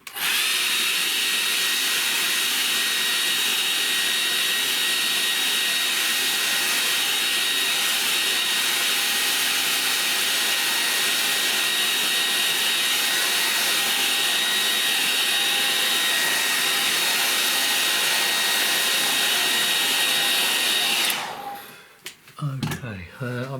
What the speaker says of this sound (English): I want to let that dry, so I'm going to give that a bit of a blow.